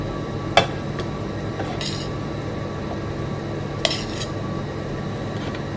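Food is served onto plates for a home-cooked Sunday dinner, with two sharp clinks of cutlery against dishes and a few faint scrapes over a quiet kitchen background.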